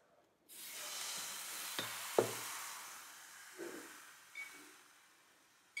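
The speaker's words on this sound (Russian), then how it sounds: "И начинаем выпекать второй блин." A kefir pancake frying in an oiled pan, a soft steady sizzle that starts abruptly and continues close by, broken by a few faint clinks and scrapes of a utensil.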